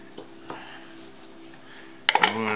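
A spoon clinks against dishes in a kitchen while split-pea porridge is prepared for a multicooker; two light taps come first, then a quick cluster of bright metallic clinks with ringing near the end.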